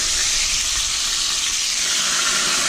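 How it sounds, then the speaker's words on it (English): Pasta water thrown into hot oil in a pan for aglio e olio makes a loud, close, continuous hissing sizzle that stays steady for nearly three seconds with no voices over it. "You're throwing water into hot oil, so it's gonna sizzle like a mother."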